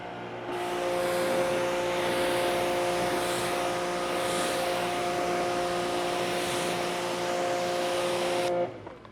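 Steady loud hose spray rinsing foam off a car, a constant broadband rush with a mechanical hum underneath, running unbroken for about eight seconds before cutting off.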